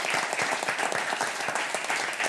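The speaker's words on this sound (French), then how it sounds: "Mesdames, Messieurs, voulez-vous applaudir, s'il vous plaît, Simone Rabanne." A studio audience applauds, dense and steady clapping from many hands that stays even and fairly close for the whole stretch, with no voice over it.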